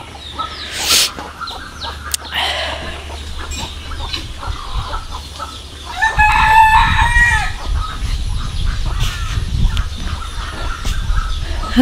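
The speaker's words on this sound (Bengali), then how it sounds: "মোরগের ডাক।" A village rooster crows clearly and nearby, with clucking hens and other farm fowl around it, loud and close with no talk over it.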